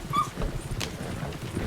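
A pet dog whimpers eagerly as its owner returns home, giving brief high whines over a low, constant background of computer game sound.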